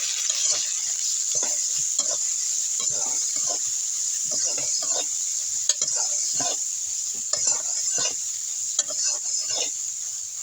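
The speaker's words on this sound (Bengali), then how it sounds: "এখন লবণ হলুদ দিয়ে আমি ভালো করে সয়াবিনটা ভেজে নিব।" Soybean chunks fried in a pan with salt and turmeric, a steady close sizzle with repeated scraping and stirring strokes throughout, loud and continuous.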